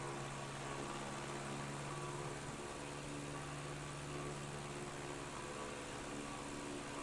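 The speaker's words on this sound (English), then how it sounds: "Alright, so we can bring back the engine, I think, just a little bit here" Steady drone of an aircraft engine throttled back in a flight simulator game, a constant mid-low hum with no change through the whole stretch.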